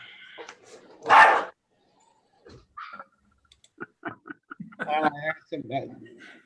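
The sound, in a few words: dogs barking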